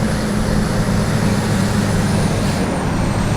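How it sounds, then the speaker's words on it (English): A loud, steady diesel rumble with a throaty drone from a Duramax Silverado truck's exhaust brake, continuous without pause. "Everyone's getting excited about the exhaust brake."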